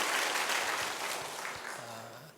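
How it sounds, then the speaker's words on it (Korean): A church congregation at a Friday worship gathering claps together, a dense wash of applause that thins toward the end as a voice begins to speak over it. "여러분 이분들을 위해서도 여러분 박수 한번 해주셔야 돼요."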